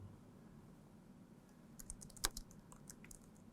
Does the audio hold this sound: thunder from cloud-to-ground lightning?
no